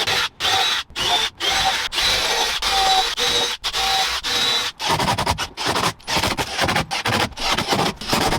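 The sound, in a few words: power drill pre-drilling holes in plywood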